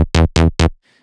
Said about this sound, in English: So there's the main bass,